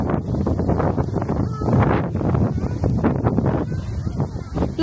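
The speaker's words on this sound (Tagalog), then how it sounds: "La, grabe yung hangin." Strong wind buffets the microphone outdoors on a wet day, a loud, steady roaring gust with rustling and bursts of people talking throughout.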